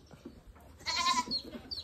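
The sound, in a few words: goat bleating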